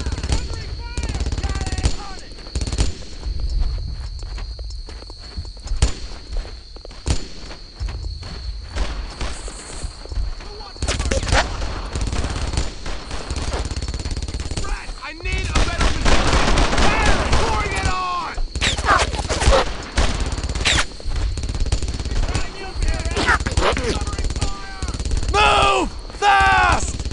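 German MG machine gun fire in the Brothers in Arms: Earned in Blood battle at Hell's Corner, with bursts of automatic gunfire and scattered shots filling the mix, loud and sustained, alongside footsteps and shouted voices.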